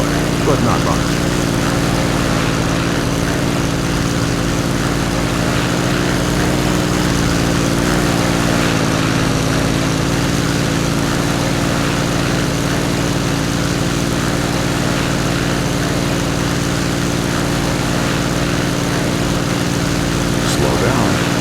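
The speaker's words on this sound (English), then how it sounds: "Great, you're now in a Piper Cub." Steady, loud drone of a Piper Cub's propeller engine taxiing in Flight Simulator X, an even buzzing hum throughout with a calm voice speaking over it at times.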